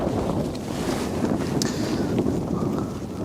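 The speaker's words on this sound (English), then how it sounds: "I don't know where this wind's come from, but it's here." Strong wind gusts at a camp hit by gusts up to 66 mph, roaring as a constant, loud buffeting rush with heavy microphone rumble and no pause.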